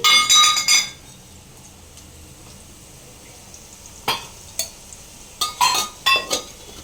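Onions with turmeric being stirred in a pan: a spoon clinks and scrapes against the metal in a short cluster at the start, then quiet, then several sharp clinks in quick succession near the end over a faint sizzle.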